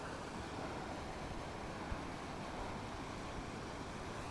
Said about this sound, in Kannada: ಇಂಡಸ್ ರಿವರ್ ಇದು. ಎಷ್ಟು ಕ್ರಿಸ್ಟಲ್ ಕ್ಲಿಯರ್ ವಾಟರ್,